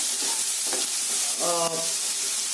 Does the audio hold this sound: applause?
no